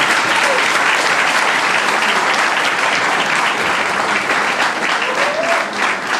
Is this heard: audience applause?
yes